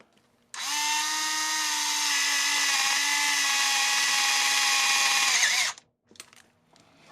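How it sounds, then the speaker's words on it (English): A light-duty drill-driver with a step drill bit enlarges a hole on a 2008 Acura MDX engine, whining steadily for about five seconds, pitch holding nearly constant as the bit cuts, then stops, followed by a few light clicks. "to make this hole a little bit larger, I decided to use a step drill bit"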